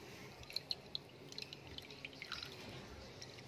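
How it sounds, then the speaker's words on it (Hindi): Water drips and trickles from squeezed grated onion into a bowl during kebab prep, a few quiet, scattered drops falling close by with soft splashes and no talking. "ये देखें जी कितना ज़्यादा इस प्याज में से पानी स्क्वीज होता है"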